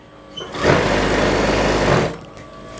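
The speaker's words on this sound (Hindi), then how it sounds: "दूसरी सिलाई में इसमें थोड़ा खींच के लगाएंगे" Sewing machine running a churidar pyjama seam: a loud, close motor whir with rapid needle chatter lasting about a second and a half, starting and stopping abruptly, with quieter handling sounds around it.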